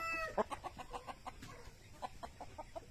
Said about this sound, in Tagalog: Yan ang ating mga roster.